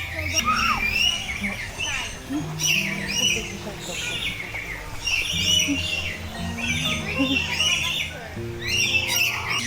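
Birds chirping and tweeting at Safari Adventure Park in Cebu, with repeated short calls and squawks from nearby birds, while people talk throughout.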